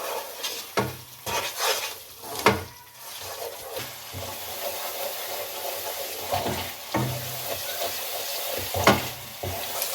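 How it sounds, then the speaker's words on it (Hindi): Aloo matar masala is stir-fried with turmeric, coriander, cumin and red chilli powder. A low, steady sizzle runs under uneven spatula scrapes and clatters against the pan, with no one speaking. "अब इसको इस मसाले के साथ भून लें।"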